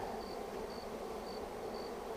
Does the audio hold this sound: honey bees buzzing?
yes